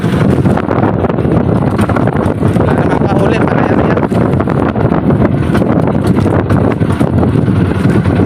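Strong, steady wind at sea roars and buffets the microphone on a lobster net-fishing trip, with a broad rushing noise that holds constant throughout, like gusts out on open water.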